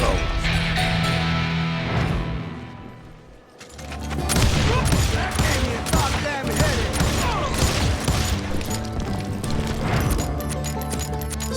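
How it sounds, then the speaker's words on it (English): Dense, continuous gunfire crackles and pops over a rumbling soundscape in the video game Call of Juarez, with a brief dip before the volley intensifies again. "Sounds like Garrett hired a whole regiment of hired guns"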